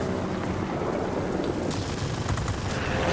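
A Yak-9 fighter's cannon fires in rapid, rattling bursts during World of Warplanes combat, steady and fairly close under a constant roar of engine and battle noise.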